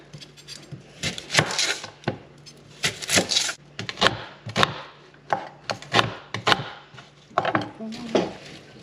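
A knife cuts through a dark purple onion on a board in a series of distinct, fairly close chops and slices, irregularly spaced, each with a crisp crunch and knock against the wood.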